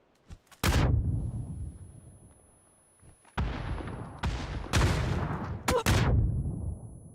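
FAMAS rifle fire in PUBG during an EMEA championship match: a few isolated sharp shots, then heavy bursts of rapid gunfire with booming, echoing tails, loud and close.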